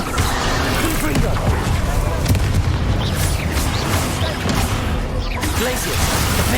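Confringo fire spell blasts in Hogwarts Legacy combat: dense, rumbling booms and bursts packed closely together, loud and continuous amid busy battle sounds.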